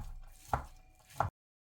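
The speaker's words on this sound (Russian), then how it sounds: "нарезаем также кубиками остывшее филе, которое мы варили в бульоне" Two sharp knife chops on a board, close and distinct, cutting cooled boiled chicken fillet into cubes, spaced about two-thirds of a second apart after a quieter rustle.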